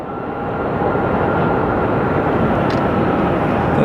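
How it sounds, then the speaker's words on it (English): An American Airlines plane arriving from Tucson at Sky Harbor Airport gives off a loud, close, broadband jet roar that builds briefly and holds steady. "Then we have American 1216 coming in from Tucson."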